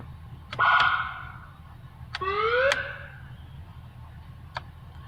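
Two short electronic siren tones from a 2017 Ford F-350 Platinum tow truck, quick rising chirps a second or so apart, with a brief click near the end; fairly quiet and otherwise still.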